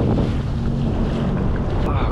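Wind buffets the microphone while waves wash around a SeaDoo out on open water during a fishing trip, a loud, steady roar with a low hum underneath and a brief splash near the end.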